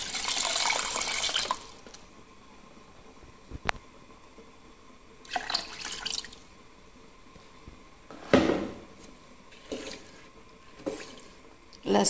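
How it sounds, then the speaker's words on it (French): Water being poured into a pot of spiced yellow rice as it cooks, heard in several separate splashing pours and bursts with quiet gaps between them. The pours are moderately faint and close. "Je vais rajouter de l'eau."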